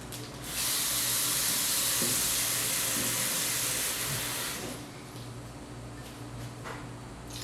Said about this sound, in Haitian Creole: On va mettre un petit de l'eau là-dedans.